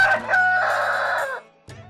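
An improved-breed rooster crows once, loud and close, for over a second, followed by a brief cluck.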